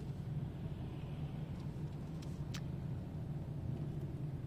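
A car slowing and braking to a stop at a red light during a driving lesson in Massy, heard as a steady low cabin rumble of engine and road noise from inside, with a brief faint squeak midway.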